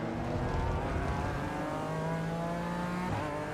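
BMW race car engine in the iRacing sim, loud and steady as it accelerates, with rising harmonic tones and a brief gear shift near the end, no talking.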